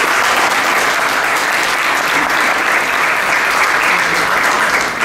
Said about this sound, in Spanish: regalarles otro fuerte y caluroso aplauso